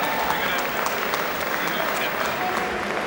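Crowd at a professional boxing match applauding after the result, a steady dense clapping sustained throughout, with an announcer's voice over it.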